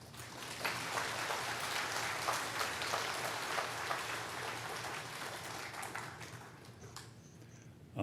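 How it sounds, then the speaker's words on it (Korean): A church congregation at an autumn revival service claps in welcome, a thick, sustained wash of many hands that holds steady for several seconds before thinning and fading out. "장경철 목사님 나오실 때 박수로 환영해 주시기 바랍니다"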